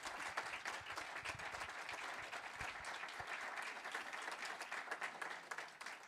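An audience at a table tennis health congress breaks into steady, dense applause, many hands clapping together without pause, fairly distant and fading slightly at the end.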